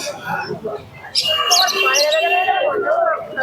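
Pigeons for sale at the Santipur pigeon market, including tumbler pigeons, chirp and coo close by, louder in the second half, while people talk over them.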